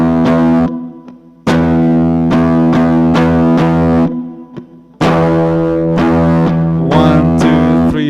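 Distorted electric guitar riff in three loud, sustained chord bursts separated by brief gaps, played alone with no talk over it.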